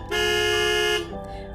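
A taxi's car horn blares in one sustained, loud, bright honk lasting about a second, then cuts off into a quieter tonal tail.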